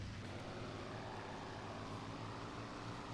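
A damaged Spitfire engine in the Il-2 Sturmovik flight game, a steady, rough droning roar heard from the cockpit, constant and unbroken throughout.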